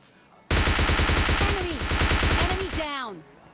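Rapid automatic gunfire from the video game PUBG Lite rattles out in a loud, sustained burst of evenly spaced shots, followed by ricochet-like whines as it stops abruptly.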